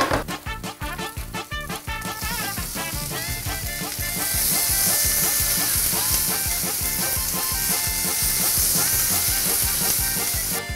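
Onion sizzles and fries in rendered pork fat for a kulesh, a loud continuous hiss with crackling bursts, starting with a few stirring clatters and then settling into an even sizzle.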